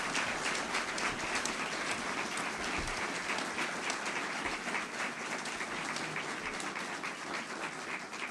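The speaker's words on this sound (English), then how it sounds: "How about a round of applause for Mr." Large crowd applauding a newly introduced conference commissioner at an athletics conference announcement, sustained dense clapping at an even level throughout with no voices.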